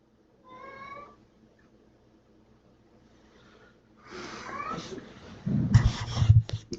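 A house cat meows once near the microphone, a short harmonic call early on, followed by a quiet stretch and then louder, close rustling and snorting or breathing sounds toward the end.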